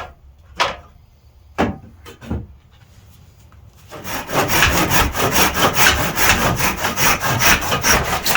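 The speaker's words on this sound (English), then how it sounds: "cut me a piece of wood" A piece of wood is cut by hand for a Kephart blade handle. A few sharp knocks come first, then loud, close, rhythmic back-and-forth saw strokes run steadily to the end.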